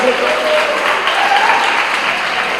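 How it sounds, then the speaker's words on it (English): A large school audience applauds a winning debater at a schools debate championship final, steady dense clapping that stays loud throughout, with a bit of voice mixed in. "please give him a big round of applause"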